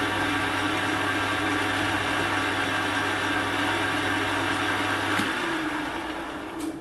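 Machine spinning a homemade fly cutter fitted with carbide tooling at 620 RPM gives a steady loud whirring hum with a constant tone that shifts abruptly near the end, with no talk.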